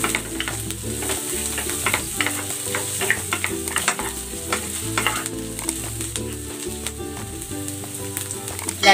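Onion and garlic sauté in a pan for a Filipino tomato-and-fish dish, a steady close sizzle with scattered stirring scrapes and clicks running the whole time, over faint background music.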